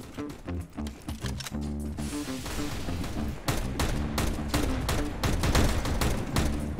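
Rapid bursts of gunfire in Counter-Strike, sharp repeated shots in quick volleys over a busy game soundscape, loud and close, with no talking.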